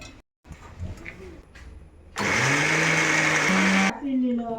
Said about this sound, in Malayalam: ഒന്ന് കറക്കി എടുക്കണം അതിനുവേണ്ടി മിക്സിയിൽ നാളികാരം